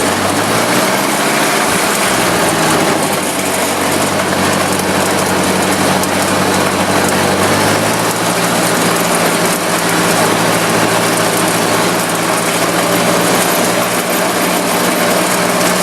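A 1954 Ford Jubilee NAA tractor engine idles with a steady low chugging hum, close by and continuous, its pitch shifting slightly early on.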